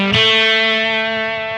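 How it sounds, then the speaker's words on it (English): Acoustic guitar played through a distortion effect: one strummed chord with a sharp attack that rings on, thick with buzzing overtones, alone and slowly fading. "we're keeping the acoustic guitar and we're actually going to put a little distortion on this"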